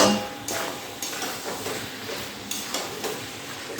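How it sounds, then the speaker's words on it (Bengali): Mutton curry being sautéed with fried potatoes in a pan produces regular spatula scrapes and taps against the metal, close up over a soft sizzle, with no talking. "এবারে সব কিছু মিশিয়ে আমি আরও দুই থেকে তিন মিনিট খুব ভালো করে এই মাংসটা কষিয়ে নেব"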